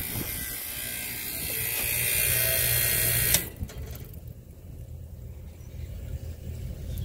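A freezer's refrigeration system switching on, with a loud whirring mechanical hum that stops abruptly with a click partway through, followed by a quieter, low steady running drone.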